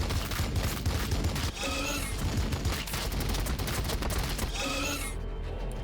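A squad opens fire in a Warhammer 40,000 Blood Angels video game, with a steady roar of gunfire and a few clearer bursts of shots under a dense layer of battle noise.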